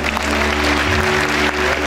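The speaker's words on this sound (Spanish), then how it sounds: "Un aplauso para ella" An audience at a Cundinamarca women's recognition event claps in a dense, steady burst of applause, loud and even throughout over a faint low hum.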